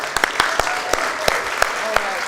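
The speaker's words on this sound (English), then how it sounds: "Please give them a round of applause." Scattered hands clap loudly and irregularly at a press conference, sharp separate claps rather than a full roar, with voices mixed in underneath.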